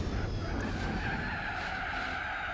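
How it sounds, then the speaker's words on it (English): A race car in Gran Turismo 4 held high in its rev range, a sustained loud engine whine with tire skid noise running steadily throughout, no talking. "I think with this engine, I have to keep in the high RPMs."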